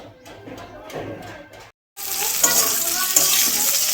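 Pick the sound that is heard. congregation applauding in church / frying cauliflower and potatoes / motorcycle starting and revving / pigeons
frying cauliflower and potatoes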